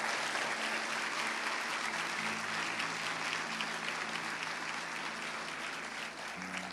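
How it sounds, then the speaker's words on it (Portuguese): A church congregation at Bola de Neve Guarulhos claps steadily and densely for several seconds, a broad wash of applause with a faint low hum underneath, fairly distant. "Dá uma salva de palmas ao Senhor."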